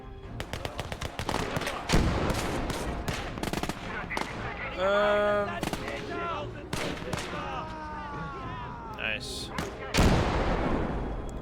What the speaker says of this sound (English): Dang, that's a big explosion here.